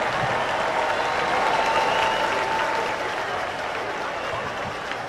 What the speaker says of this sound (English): Let's give Mr. Greenwood a Golden Lion round of applause as he accepts his proclamation.